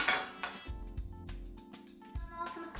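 A spoonful of butter is pushed around a hot frying pan, with clinks and scrapes of metal on the pan, some knocks, and a bubbling sizzle underneath, close up.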